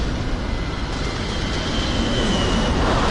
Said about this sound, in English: you can hear that plane fly over you